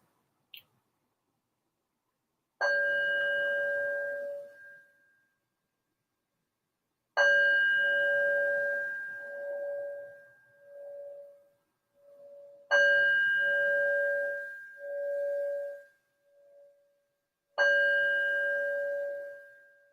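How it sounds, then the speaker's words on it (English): A meditation bell rung to open a yoga practice, struck four times at slow, even intervals, each clear tone ringing and fading into silence, with soft wavering overtones between strikes. "I'm going to ring the bell to invite us into our practice"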